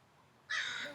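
A crow gives a single harsh caw halfway through, fairly close and clear over quiet city background, outdoors near trees.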